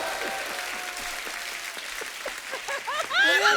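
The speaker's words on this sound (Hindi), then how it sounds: "थार के लिए एक बार जोरदार ताली हो जाए।" Studio audience at a Hindi comedy talk show applauding loudly, a steady dense clatter of clapping with bright cheers and whoops rising toward the end.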